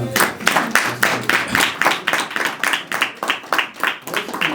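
An open mic crowd claps for a poet in a steady run of sharp, close hand claps, with rhythmic bursts that rise and fall evenly throughout.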